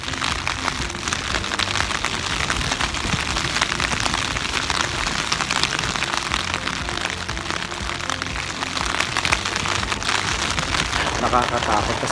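Heavy rain on a mountain top during a typhoon, a loud, dense and continuous hiss of drops pounding surfaces at close range, with no break.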